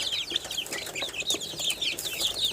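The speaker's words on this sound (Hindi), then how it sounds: "मुर्गी के बच्चे" Young chickens and hens clucking and peeping in a yard, a steady flurry of high chirps and soft clucks, fairly close and continuous with no talk.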